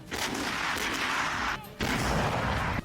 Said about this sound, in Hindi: मोर्चा संभालने के बाद यूक्रेन के ठिकाने पर तोप गोले बरसाने लगी।